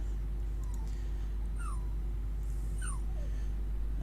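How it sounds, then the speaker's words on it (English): A dog yelps and whimpers in short high cries while trying and failing to get up onto a bed, faint and a little distant behind a steady electrical hum. "If you can hear a little bit of yelping behind me, that's my"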